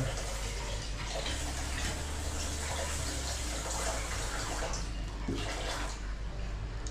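Tap water runs continuously from a faucet for washing, a steady splashing hiss with faint clinks of handling mixed in and no talking.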